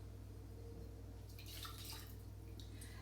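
Water poured into a heavy saucepan, 170 grams of it, for Italian meringue syrup: a quiet, close trickling and splashing that comes in during the second half over a steady low hum.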